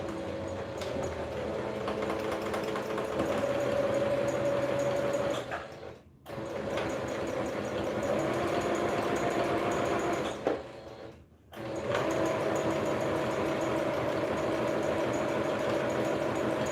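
Sewing machine running steadily while an Ankara flare top is stitched. A continuous mechanical whir and rattle stops briefly twice, then resumes at the same pace. It sounds close and steady, with no voices.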